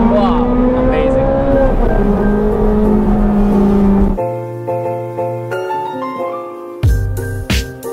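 Ferrari 430 Scuderia fitted with a Capristo exhaust revs hard in a tunnel, a loud, echoing engine rise that cuts off abruptly midway, followed by quieter mechanical and ambient sounds with brief sharp bursts.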